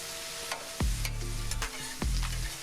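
Beef tenderloin sizzles loudly in a pan while it fries for a cheesesteak-style sandwich, with a steady crackle broken by a few sharp scraping stirs, close up and with no talking.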